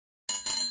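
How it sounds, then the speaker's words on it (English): A single bright bicycle bell ring, two quick close dings in under a second after a brief silence, with a shimmering metallic ring. "Bicycle."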